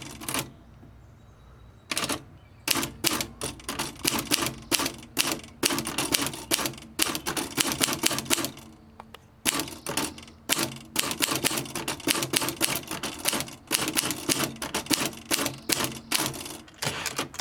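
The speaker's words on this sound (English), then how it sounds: "I'll do a quick type sample." A Hermes 3000 manual typewriter typing out a sample line, bursts of sharp, rapid key strikes in uneven runs with brief pauses, close and crisp, no voices.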